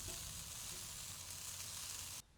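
Roast pork and apple sausages sizzle on a charcoal grill with a bit of hardwood, a steady, bright crackling hiss close up that cuts off abruptly at the end.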